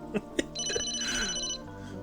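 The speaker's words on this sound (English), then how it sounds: "Oh, the phone's ringing." Phone ringing in the video game Emio: a bright electronic trill with repeated stacked tones, heard close over background music.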